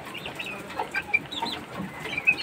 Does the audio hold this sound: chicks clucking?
yes